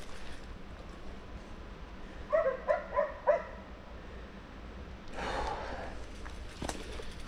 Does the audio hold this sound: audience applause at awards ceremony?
no